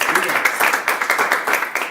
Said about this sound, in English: Let's a round of applause for all our customers.